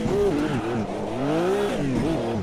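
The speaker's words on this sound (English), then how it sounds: "You can all hear the car all right, yes?" Race car engine in the Automobilista 2 racing sim, revving and shifting with rising and falling pitch sweeps, loud and continuous throughout, with faint tire noise underneath.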